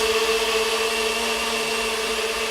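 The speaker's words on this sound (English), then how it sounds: "get your blender up. We've got a NutriBullet." A NutriBullet blender whizzes pancake batter, giving a steady, loud motor whine that holds even and unbroken throughout, with no speech over it.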